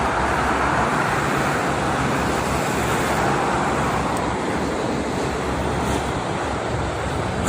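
Steady highway traffic on the Jakarta–Cikampek toll road near a rest area on a clear morning, a continuous loud roar of passing cars and trucks with wind, unbroken throughout and no talk.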